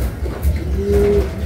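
Racing pigeons cooing during a pigeon race, one close, soft drawn-out coo rising over low background rumble, brief and alone without talk.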